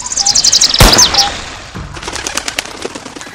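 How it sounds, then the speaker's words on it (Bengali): A sudden loud rifle-like shot cracks out amid rapid repeated bird chirps in a village horror-story sound effect, followed by softer scattered crackling pops and fading bird calls. "রাইফেল কার্তুজের শব্দে কেঁপে উঠেছিল গোটা গ্রাম।"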